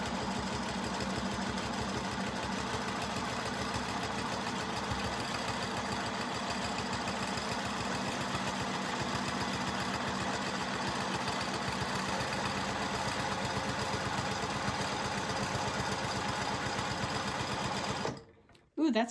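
A domestic sewing machine runs steadily for free-motion quilting along a Westalee Curly Q ruler, its fast needle chatter continuous and close for about eighteen seconds before it stops abruptly.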